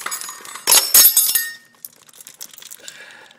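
Broken engine parts from an LS V8 intake manifold, pieces of piston, piston ring and valve, tumble out in a loud, clattering metallic crash of two bursts, then scattered lighter clinks and rattles settling.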